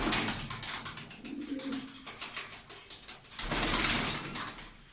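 Milky-white Mosul Gaga pigeons flap their wings in a series of rapid, close clattering bursts, with soft cooing in between and a louder flurry of wingbeats near the end, and no speech.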